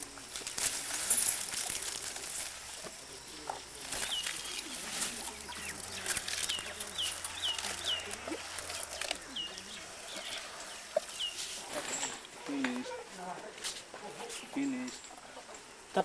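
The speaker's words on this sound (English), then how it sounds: "chicken now." Chickens cluck at a farm area by an elephant breeding center in Nepal, with repeated clucks through a steady outdoor background and people talking nearby.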